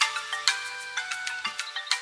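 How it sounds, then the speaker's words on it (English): Bright, tonal, ringtone-style notes from a film score play in a quick repeating melodic pattern, each note starting sharply and then decaying, clear and without speech. "That's my ringtone!"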